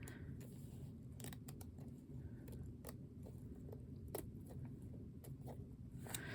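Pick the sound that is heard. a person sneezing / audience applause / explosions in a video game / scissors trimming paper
scissors trimming paper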